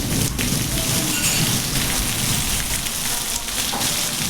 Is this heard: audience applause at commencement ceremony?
no